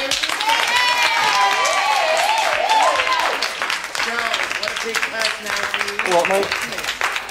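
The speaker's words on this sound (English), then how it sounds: "Come on, a nice big round of applause for the fabulous," An audience applauds a stage act, with steady clapping under a loud voice and cheering throughout.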